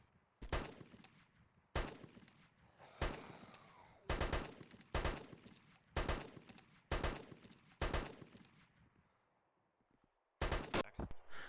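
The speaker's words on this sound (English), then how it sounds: "I put a couple more rounds down at him." Gunfire in the survival game DayZ Epoch: about a dozen sharp, loud shots in single and paired bursts at irregular intervals, each trailing off in a long echoing tail, with no talking.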